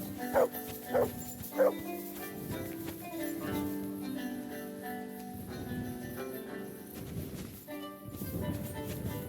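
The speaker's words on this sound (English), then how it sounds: "Good dog, Mats." A dog in the Kingdom Come Deliverance II video game gives three sharp, loud barks near the start, then the game's music and ambient sounds carry on without talk.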